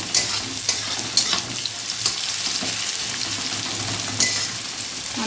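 Spices with chilli powder fry in a pan for a fish curry, giving a continuous close sizzle punctuated by several sharp clicks and scrapes of stirring.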